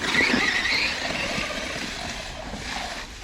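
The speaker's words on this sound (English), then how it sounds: "handbrake, see how it turns it like that?" An Arrma Fireteam RC car performing a handbrake turn, its motor whining steadily as the tires scrub and slide across the surface, close and fairly loud with no voices.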